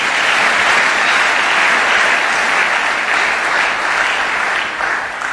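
A church congregation claps steadily and loudly for several seconds, a dense sustained applause that eases slightly toward the end.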